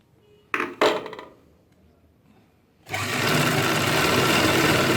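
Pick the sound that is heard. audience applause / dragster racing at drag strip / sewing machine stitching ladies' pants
sewing machine stitching ladies' pants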